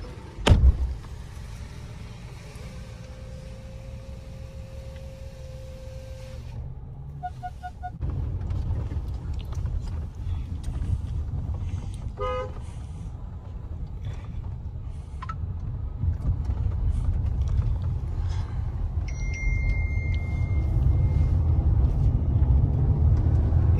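A Mercedes automatic car drives along with a low, steady engine and road rumble that grows louder and fuller over time, marked by a few faint clicks and beeps from inside the cabin.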